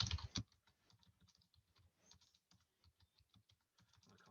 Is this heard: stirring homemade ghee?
no